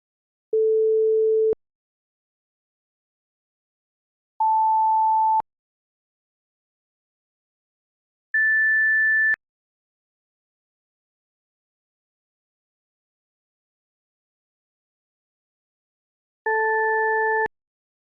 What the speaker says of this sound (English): all signals with periodicity can be created by the sum of sine waves